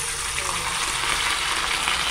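Hot cooking oil fries and splatters in a dense, loud, unbroken crackling hiss heard up close.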